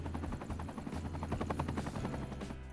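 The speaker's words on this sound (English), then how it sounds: "those helicopters are annoying." Helicopter in the Cities: Skylines 2 city-building game, a steady rotor drone with rapid chopping pulses holding at close range for the whole stretch, no talk over it.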